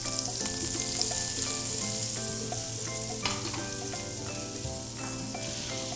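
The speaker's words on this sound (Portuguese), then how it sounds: "Uma carne fritinha com gostinho de manteiga é tudo de bom." Seasoned beef frying in hot olive oil mixed with butter for a stroganoff, with a steady, loud close-up sizzle and crackle throughout under a faint background hum.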